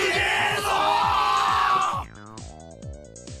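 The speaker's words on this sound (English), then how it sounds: "The crowd paused in a moment of awe and then erupted in cheers." A festival crowd cheering and yelling in a Higurashi visual novel game scene, a loud roar of voices for about two seconds that cuts off into quieter rhythmic game music.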